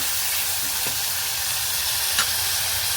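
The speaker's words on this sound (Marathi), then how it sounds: "टमॅटो कांदा छान आपण याला मिक्स करून घ्या तेलावर छान परतून घ्या" Tomato and onion sauté in hot oil for a bottle gourd curry, making a loud, steady, close sizzle with only a few faint clinks of stirring.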